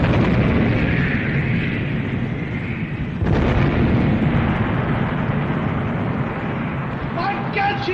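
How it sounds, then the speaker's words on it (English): A warship's gun turrets fire in a war film: a heavy, rolling boom fills the scene, with a sharp fresh blast partway through and a dense rumbling din throughout. "My God, she's firing again! With another 2 turrets!"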